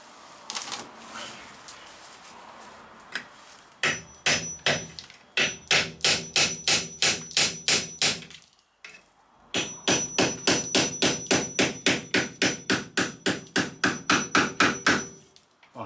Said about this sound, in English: Maybe a few whacks with a hammer on.